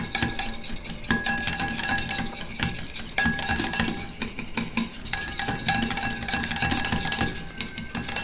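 A spoon beats ghee in a bowl while butter cookies are being made, giving continuous rapid clinking and scraping strokes against the bowl, steady and close with no talking.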